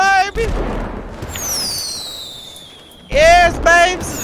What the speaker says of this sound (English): Stop shooting the fireworks!